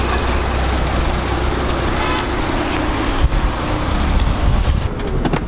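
Car travelling along a road, with a steady, loud broadband rumble of tyres and engine, passing traffic noise and a few brief louder bumps near the end, no voices.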